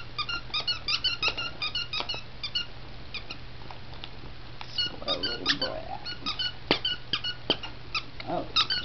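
A squeaky dog toy gets chewed and pressed in rapid bursts of high squeaks, up close, with a pause midway and a quieter stretch of rustling before the squeaking picks up again.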